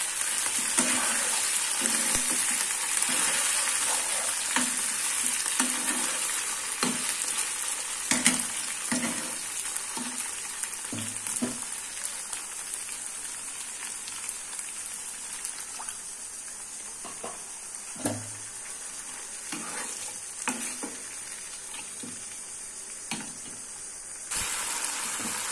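Spice masala with tomato and salt sizzling in a pan while being stirred, a steady frying hiss broken by repeated scraping strokes of the spoon.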